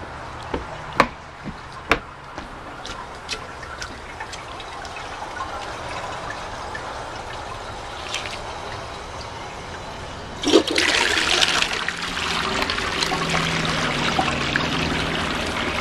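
Flush of a 1999 Cisa toilet loaded with twelve table tennis balls and washcloths, partly clogged: a few sharp knocks, then a sudden loud rushing surge of water that keeps pouring and gurgling steadily to the end.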